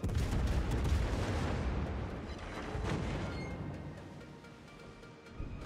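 Heavy naval gunfire from a Drake-class ship in World of Warships, a dense rumbling barrage of booms that rolls on and slowly fades, with no talk over it.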